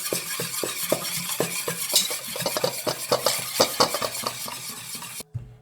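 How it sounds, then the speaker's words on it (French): Ingredients for a fish soup are stirred in a pot, a rhythmic series of scraping, clacking strokes with a soft sizzle underneath, ending abruptly in near silence. "On va mélanger le tout."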